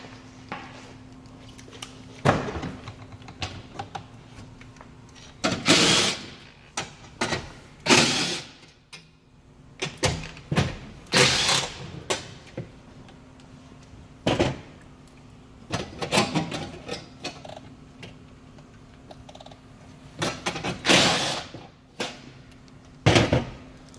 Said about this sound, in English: Now we're going to take a 10 millimeter, take off this upper case, or the cover.